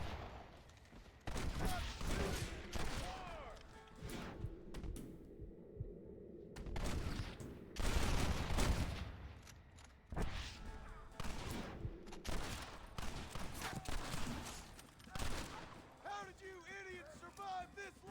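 Gunfire crackles through a video game shootout at a gate, with bursts of shots and booms repeating loudly across the whole stretch, mixed with shouting voices.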